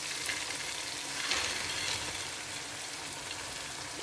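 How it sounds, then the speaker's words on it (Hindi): Green peas fry in a pan with a steady, fairly faint crackling sizzle like light rain, swelling a little as they are stirred; no speech. "और मटर को मैं तकरीबन 2 मिनट तक भून कर"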